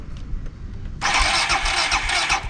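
After a second of low rumble, a carbureted superbike engine cranks loudly and steadily, as if trying to start without catching, heard close with no talking.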